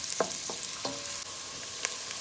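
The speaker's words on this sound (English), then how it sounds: "We're gonna fry that up a little" Onions frying in a pan give a steady, soft sizzle, broken by a few light scrapes and clicks of stirring.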